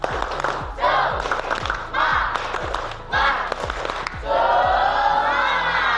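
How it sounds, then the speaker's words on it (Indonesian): A school class doing tepuk semangat spirit clapping: a group claps in a quick, regular rhythm of loud claps while voices chant along, ending in a sustained loud shout from the crowd. "Kita tutup dengan tepuk semangat dulu."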